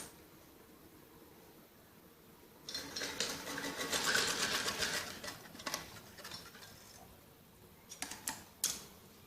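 Sewing machine running a straight seam on a folded shoulder strip of a child's jacket frock, starting after a quiet stretch and continuing in uneven bursts with small clicks near the end.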